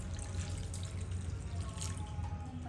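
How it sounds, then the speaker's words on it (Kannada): Water splashes softly and steadily as it is poured into a pot of potato curry cooking in a home kitchen, a faint, continuous trickle heard alone. "ಇದಕ್ಕೆ ನಾನು ನೀರು ಹಾಕ್ತಾಯಿದ್ದೀನಿ"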